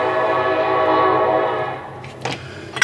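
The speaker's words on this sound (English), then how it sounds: "there are a lot of trains running outside" Trains run outside, heard from indoors as a steady rumbling roll, then fading as a few short sharp bursts and knocks come close by near the end.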